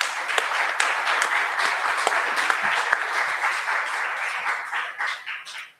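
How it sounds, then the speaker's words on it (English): A political forum audience gives a round of applause: dense, steady clapping with a few crisp individual claps standing out, holding loud before tapering off and stopping at the end. "Let's give a round of applause."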